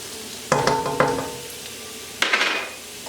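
Ginger and garlic fry in very hot oil in a pan, with a few sharp utensil scrapes and clinks over a steady sizzle and a louder burst of stirring toward the end.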